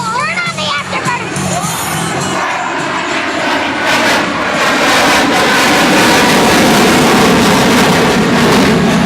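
F-16 Fighting Falcon jet roaring with afterburner at an airshow, a loud, sustained broadband rumble that swells and holds steady, with crowd noise and brief talk near the start.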